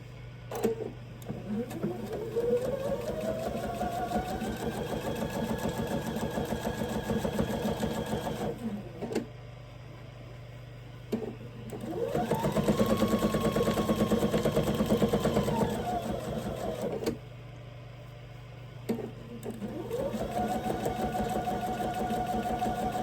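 Sewing machine stitching a Bargello Christmas tree skirt in three long runs, its motor whirring up to a steady humming drone that stops briefly between runs, close and even.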